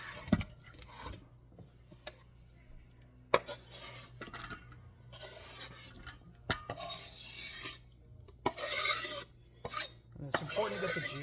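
A spoon stirs pesto and tomato juice together in a bowl, giving quiet intermittent scraping and clinking strokes, close and soft, with no talking.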